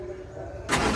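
A car's ignition key is turned and the engine cranks and catches, a short loud surge rising at the end of a brief, close moment.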